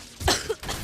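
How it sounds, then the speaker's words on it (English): A single short cough, close and fairly loud, stands alone without speech. "You coughed after."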